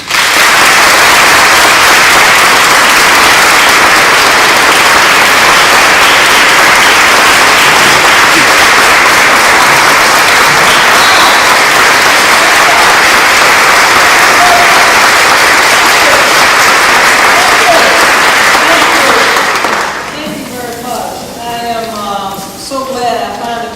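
A lecture audience at the Clinton School breaks into long, loud, dense applause for a guest speaker, holding steady for about twenty seconds before thinning into scattered claps as a speaker's voice begins.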